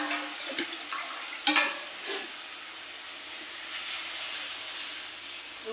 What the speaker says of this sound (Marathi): याच्यात मी पाणी ओतते